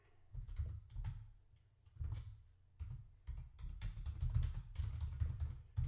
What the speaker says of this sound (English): We want to type in what we want to name it